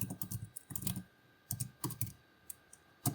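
Keys clatter on a computer keyboard as a git branch command is typed, coming in short irregular bursts of clicks with brief pauses between them, close and fairly quiet with no voices.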